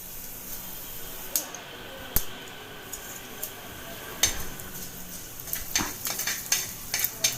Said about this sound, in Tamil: 3 டீஸ்பூன் மல்லி சேர்த்து நல்லா வறுத்துக்கங்க.